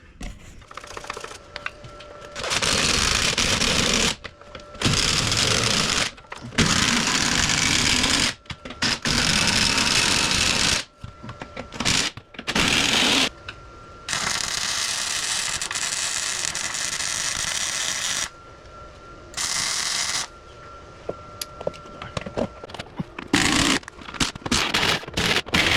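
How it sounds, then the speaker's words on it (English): Welding a transmission mount on a 1979 Jeep CJ5, loud crackling arc bursts that start and stop repeatedly, with short silent gaps between welds. "I'm going to tighten this thing back up and then weld that on there."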